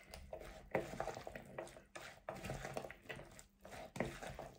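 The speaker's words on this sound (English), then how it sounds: "Give it a mix." Shrimp ceviche with chopped avocado is stirred in a bowl, giving very quiet, soft wet squishes and light scraping in an irregular rhythm with brief pauses.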